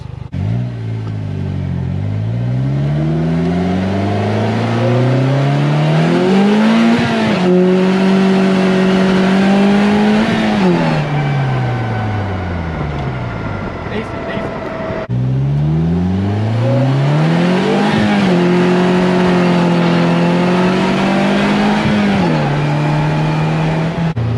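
A Polaris Slingshot SLR three-wheeler roars loud and close, its engine climbing repeatedly through the revs in rising sweeps, easing off through a turn, then pulling hard again.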